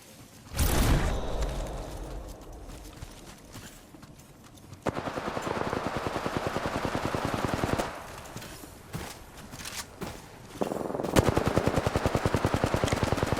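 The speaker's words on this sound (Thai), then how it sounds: "ปืนโคตรดีอาจจะแรง" Rapid automatic gunfire in the Apex Legends video game comes in several sustained bursts separated by brief pauses, loud and close, with a sharp initial blast.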